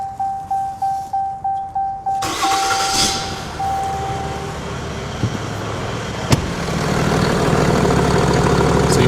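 A car engine cranks several times in rapid rhythmic bursts, then catches and settles into a steady cold idle, loud and close with no talking, during a check before readings at idle and around 1500 RPM.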